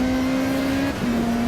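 A Ferrari in Need for Speed Rivals surging on nitro boost, a loud steady high engine roar with a brief dip before climbing again, no talking.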